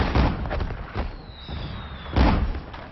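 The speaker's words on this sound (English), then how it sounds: "That ship was firing star shells." Naval gunfire from a warship launching star shell flares, heavy booming bursts rumbling at moderate distance, with a strong blast near the start and another louder one about two seconds in, low rumble between.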